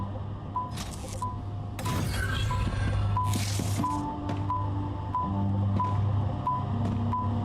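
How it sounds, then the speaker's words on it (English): A vehicle in the video game StarRupture sounds steady, evenly spaced reversing beeps that repeat throughout, set against a low hum and scattered clanks, with no talk. "Yeah, beep, beep, beep, beep,"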